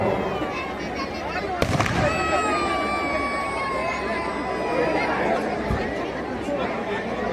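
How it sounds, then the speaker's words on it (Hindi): A crowd chatters steadily while fireworks crackle and pop at a Dussehra effigy burning, with one sharp bang and a whistling rise, the bursts partly buried under the murmur. "आतिशबाजी चल रही है, सभी उसका आनंद व लुत्फ लें।"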